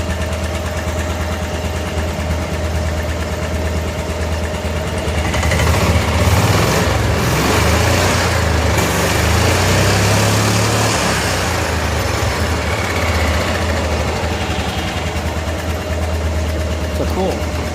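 1988 Club Car golf cart gas engine with a new carburetor runs loud and close, a steady idle that rises into a rev through the middle before settling back, with someone talking over it.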